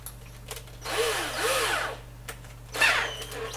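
Cordless power drill boring holes during a PC upgrade, two distinct whirring bursts with a rising whine, separated by brief pauses and light handling clicks, close and fairly loud.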